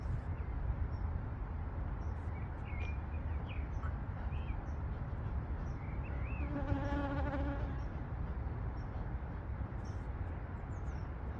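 Honeybees buzz steadily around a backyard hive, a dense continuous drone close by that fills the scene, with a few faint bird chirps above it and no talk.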